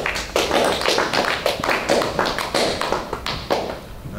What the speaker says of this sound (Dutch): Uw applaus voor Xander de Rijke